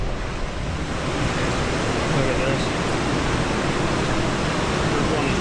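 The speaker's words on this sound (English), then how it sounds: "I'm just scouting out this little falls here to see how we're gonna get over it" Steady rushing roar of a small waterfall on the Grand River, a dense, unbroken wash of water noise filling the scene, with a brief spoken remark over it.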